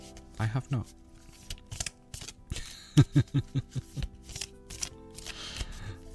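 Quick crisp riffling bursts of a card deck being shuffled, a couple of close flurries with brief pauses, with some faint handling noise around them.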